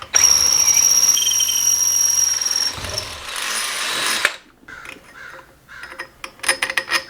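A power drill whines loudly at close range for about four seconds as it bores a hole, then stops, followed by scattered clicks and handling noises.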